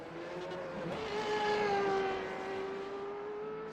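Renault 3.5 single-seater race cars at speed on the Belle Isle street circuit in Detroit, a loud, sustained engine whine rising and falling in pitch as cars pass close by, with a continuous roar and no talking.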